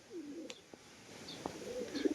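Pigeons coo softly at close range, with a few low rolling calls and a scatter of short clicks and faint chirps over quiet background noise.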